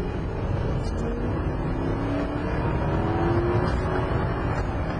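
Lexus LS400 sedan under full-throttle acceleration, a smooth, steady engine drone with rising harmonics as it pulls hard up a road, heard from inside the car with no talking.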